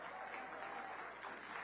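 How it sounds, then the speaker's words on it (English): Soft, distant clapping from a community crowd at an outdoor Juneteenth and Greek Day celebration, a quiet brief patter of many hands. "Let's give yourselves a round of applause."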